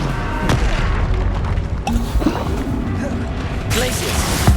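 Spellcasting combat in Hogwarts Legacy with the Incendio fire spell, loud booming blasts and crashing impacts under a busy game soundscape with several sharp bursts spread across the moment.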